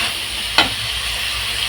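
Ingredients sautéing in a pan for Tamil kulambu give a steady broadband sizzle, with one brief sharp stir or scrape near the middle, heard close and alone.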